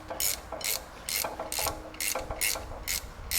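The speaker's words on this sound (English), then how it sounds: "you just do your ratchet wrench thing" A ratchet wrench loosens a strut nut on a 2023 Lexus GX460 Blackline, clicking in short, evenly spaced bursts of quick pawl ticks, close and fairly quiet, with no talk.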